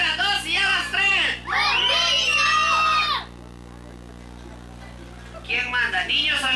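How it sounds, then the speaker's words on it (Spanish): Children at a village patron saint festival shout and scream together loudly after a count, a burst of high excited voices lasting a few seconds, then a lull with background hum before the yelling starts up again. "Ahora un grito de los niños."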